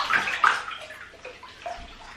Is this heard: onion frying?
no